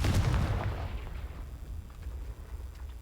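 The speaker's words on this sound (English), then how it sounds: "That's probably gonna confuse me, so I'm gonna blow it up." A Confringo blasting spell bursts in Hogwarts Legacy: one loud, booming explosion up front, then a rumbling tail that fades slowly into low ambient noise.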